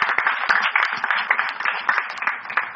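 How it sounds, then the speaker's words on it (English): Quiz show audience applauding the competing teams at a Nashik regional round, a mid-loud spread of clapping hands with irregular sharp claps across a few seconds. "Can I have a round of applause for these teams?"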